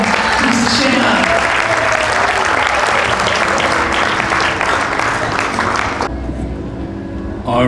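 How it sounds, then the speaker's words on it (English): A wedding audience applauds the newly married couple at a Sri Lankan wedding reception, steady dense clapping filling the room with crowd noise before it cuts off abruptly near the end. "a round of applause for the man and woman"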